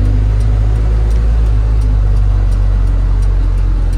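A Po Bagong bus engine works hard climbing a steep hill, heard from inside as a loud, steady low rumbling drone with constant road noise and no talking.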